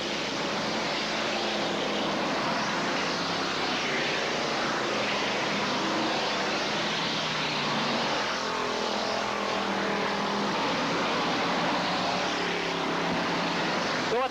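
Race cars at a speedway enduro race, a steady loud roar of multiple engines filling the whole stretch without a break, no talk heard.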